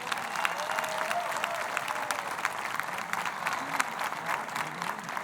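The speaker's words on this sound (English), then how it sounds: "Let's have a round of applause for these fighters." Crowd applause for fighters at an MTFL fight event comes from a mid-distance audience as steady clapping, with scattered cheers and some voices mixed in throughout.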